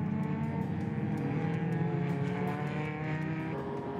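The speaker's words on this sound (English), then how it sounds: "Kubus Brits in the Porsche 924 makes a move around the outside of turn one" Race cars on a circuit, among them a Datsun, a VW Beetle and a Porsche 924, produce a continuous loud engine drone with layered revving tones, steady and close without pause.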